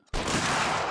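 Musket volley from a 33rd Regiment of Foot line in an Anglo-Zulu war video game, set at Rorke's Drift: one sudden, loud crack of massed shots that swells into a sustained roar, close by and with no talk over it.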